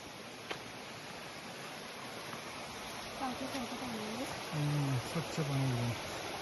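A small forest stream runs steadily beneath a wooden bridge near the Yana caves, a constant close wash of flowing water; voices talk over it during the second half.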